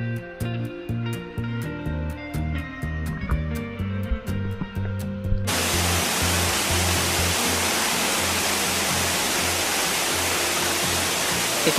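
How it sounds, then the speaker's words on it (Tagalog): Tua Falls, the tallest waterfall on Mount Mataripis, pours with a dense steady roar that starts abruptly after a stretch of rhythmic music and stays loud and continuous. "Ito na yung Tua Falls na sinasabi nila."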